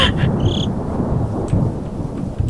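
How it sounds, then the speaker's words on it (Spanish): Thunder rumbling over steady rain in a Minecraft horror map, a low continuous roll with a couple of duller thumps, heard alone without talk. "Oh, los truenos."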